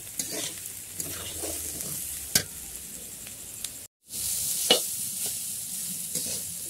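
Vegetable chowmein fries with a continuous close sizzle in a pan, broken by occasional sharp spatula knocks and a brief dropout midway before the hiss resumes.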